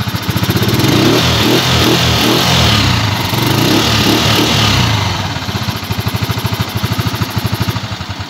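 Loud, close motorcycle engine running with a rapid, throbbing beat, revving up and then settling into a steady idle.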